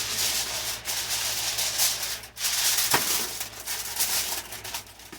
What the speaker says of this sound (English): I'm going to put tin foil on it